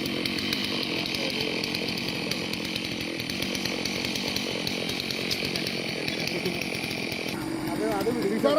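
A chainsaw cuts huge flood-borne trees jammed against a bridge, its engine droning steadily and close, with a slight change in pitch near the end.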